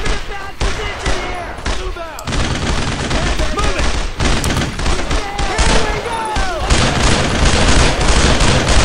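Dense gunfire and covering fire in Brothers in Arms on the WWII Purple Heart Lane mission: rapid rifle and machine-gun bursts crack loudly and continuously, with heavier booms and shouting voices mixed in.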